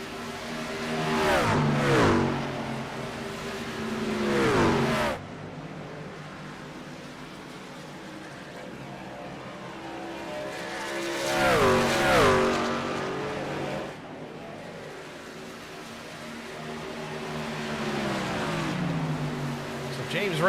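Racing truck engines in a Lonestar Racing Truck Series video game race at Homestead roar past in two loud waves, rising and falling as they pass, with a quieter engine drone in between.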